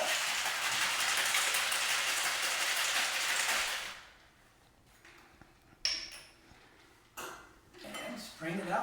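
A cocktail shaker holding a Mexican Martini with olive brine and a splash of orange juice is shaken hard, a dense rattling of ice lasting about four seconds, then quieter clinks and handling noises follow.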